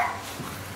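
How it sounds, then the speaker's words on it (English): A dog in a yard gives short barks and whimpering yips, close and fairly loud against a steady noisy background. "Here, Diane got to meet a new dog."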